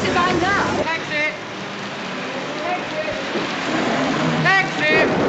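Rain falls steadily on a city street at night, a constant hiss under people calling out and talking.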